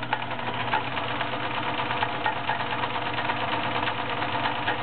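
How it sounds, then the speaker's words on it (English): Vintage 1980s Kenmore Ultra Stitch 12 model 1561 sewing machine zigzag stitching through denim, a steady fast mechanical whir and clatter with a wooden thread spool dinging on top throughout. "the noise you actually hear is my wooden spool of thread on the top. So that's the kind of the dinging bit that you hear"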